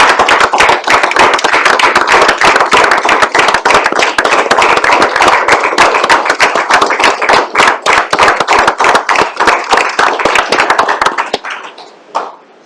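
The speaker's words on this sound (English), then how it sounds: "I think Willie deserves a huge round of applause." Sustained, loud applause from a crowd at a city council meeting, dense and close, lasting around eleven seconds before tapering off to a few last claps.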